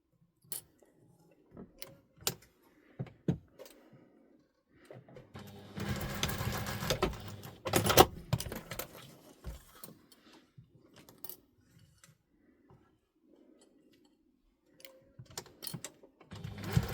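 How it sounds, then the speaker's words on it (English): A sewing machine stitches a wallet in a short, fairly quiet run of rapid mechanical whirring, surrounded by scattered small clicks and handling taps in an otherwise quiet room. "I just take them to the machine."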